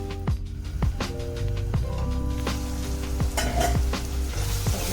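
Tomatoes cooking in a pan under a lid for a chickpea curry, giving a steady close sizzle and bubbling with a few faint clinks of the lid or pot, and no talking.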